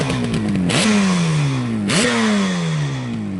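A 1975 Yamaha RD350B two-stroke motorcycle engine with reed valve induction revs hard twice, each blip rising sharply then falling away, with a raspy, ringing exhaust note close up.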